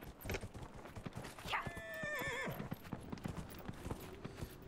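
Horse in the video game Dragon Age: Inquisition, with steady clip-clop hoofbeats and a loud whinny partway through, people talking quietly underneath.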